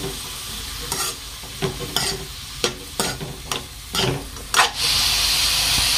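Cabbage palya being stirred in a hot pan: repeated scraping strokes of a spatula over a loud sizzle, about eight distinct stirs, ending in a continuous hiss.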